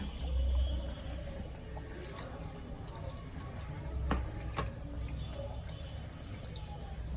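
A little water poured into a pot of browned beef during cooking, a close sloshing gush over the sizzle, with a short burst near the start and another a few seconds later.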